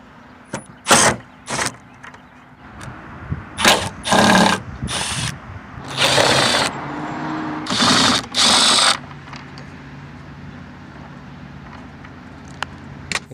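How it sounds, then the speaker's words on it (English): Power screwdriver bursts removing Phillips head screws from the interior liftgate panel of a Jeep ZJ, several short whirring runs of one to two seconds each with gaps between, close and loud, no talking. "start removing the 14 Phillips head screws along the outside of the panel"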